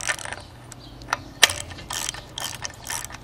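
A ratchet with a 1¼-inch socket tightens the rear timing chain tensioner on an Ecotec engine, giving a quick run of close, crisp clicking with one sharp metallic tick and short irregular bursts, no talking.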